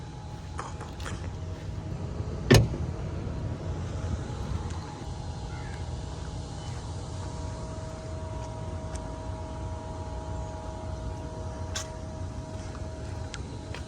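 A 2024 Porsche Taycan GTS front trunk pops open with a single sharp mechanical clunk, close and brief, over a steady low background hum, followed by faint ticks.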